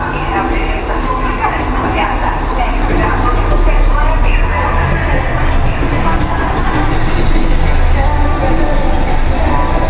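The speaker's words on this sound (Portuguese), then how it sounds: "tá passando até o carro da água agora" A water tanker truck passes on a rainy day with a loud, continuous low engine rumble. It swells gradually as the truck draws nearer, and faint voices sit underneath.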